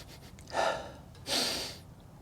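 Two sharp, close sniffs, about half a second apart, from a person smelling the interior of a 2017 BMW M240i, with no talking.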